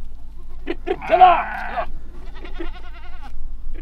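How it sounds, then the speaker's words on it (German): A passing herd of sheep and goats gives one prominent, drawn-out bleat, followed by fainter animal calls, while someone shouts briefly nearby. "es kommen ständig so Schaf- und Ziegenherden vorbei und ganz viele Schäferhunde"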